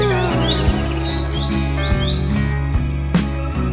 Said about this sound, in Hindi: टूनी चिड़िया बार बार क्यों उस बैगन के पेड़ पर भला क्यों जा रही है?